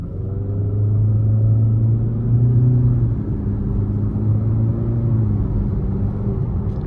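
A 2023 Nissan Altima SR VC-Turbo pulls away from a stop, its engine a steady low rumble heard from inside the cabin, rising gently in pitch as it accelerates.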